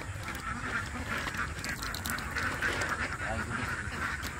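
Ducks quacking on a rural Philippine farm, a steady chorus of mid-pitched calls close by, continuous through the moment with a voice talking faintly underneath.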